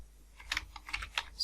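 Quiet, close keystrokes on a computer keyboard while typing VBA code in Excel, a few separate clicks in an irregular rhythm with no speech.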